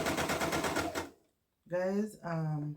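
A sewing machine stitching a blanket at wide stitch, running in a dense rapid mechanical rattle for about a second, then stopping; afterward a person talks briefly.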